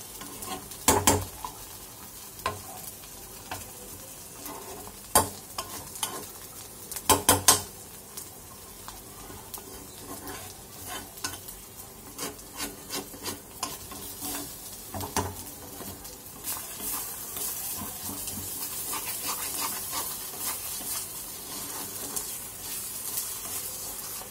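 Chepa shutki, a fermented dried fish, fries in a pan with a quiet crackle under repeated clattering stirs and scrapes. Bursts of tapping come early, then denser stirring follows, and no voices are heard.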